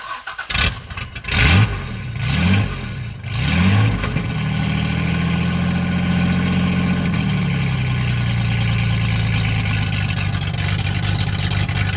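A car engine cranks through several starter whirs before catching, then settles into a loud, rough rumble with rising revs and a sustained throaty roar close by, no talking.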